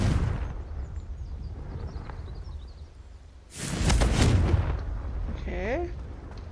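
A Confringo blast spell goes off in a video game as a sudden loud explosive burst midway through, followed by a rumbling decay and some whooshing, with faint ambient sounds before it.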